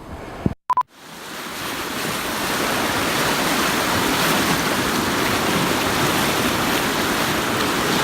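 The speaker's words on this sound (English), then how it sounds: "Welcome to the Boulder River." Boulder River rushing over granite boulders, a steady broadband roar of flowing water that fills the clip after a brief dropout near the start, close and continuous with no voices.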